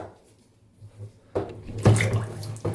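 Water from a pump splashes into a 100-gallon livestock tank used as a bathtub, faint at first, then a louder gushing and splashing rise near the end.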